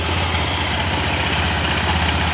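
A Honda Genio scooter engine idles steadily after starting, a loud, even low putter with a faint knocking vibration running through the whole stretch, no voices.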